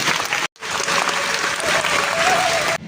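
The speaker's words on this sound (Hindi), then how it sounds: "और जोरदार तालियां होनी चाहिए।" Loud, sustained audience applause filling the room, broken by a brief cut near the start and continuing steadily to the end.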